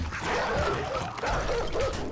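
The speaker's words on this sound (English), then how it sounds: "That was a lot of dogs!" A pack of dogs in the 7 Days To Die video game barks and yips in a dense, overlapping chorus, loud and continuous over a noisy background.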